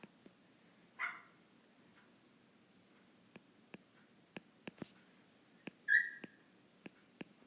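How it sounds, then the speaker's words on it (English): A puppy left outside barks and yelps a few times, thin and distant, between scattered light ticking taps, with no talk over it. "I don't know if you can hear him, but my puppy is outside and he wants to come inside and nobody will bring him in."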